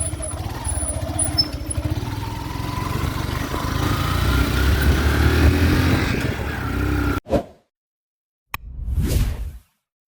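A motorcycle engine drones and revs steadily for several seconds, fairly close, then cuts off abruptly, followed by a short swell of noise.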